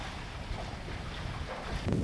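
A sailboat under sail at sea gives a steady broadband rush of wind and water with heavy wind buffeting on the microphone, continuous and close, with no talking.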